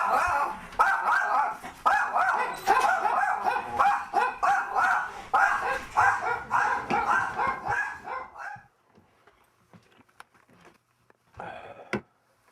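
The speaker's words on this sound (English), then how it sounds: "Watch the dogs. They're gonna be loud." Several dogs bark loudly and rapidly in a rough, overlapping burst for about eight seconds, then fall quiet before a single short bark near the end.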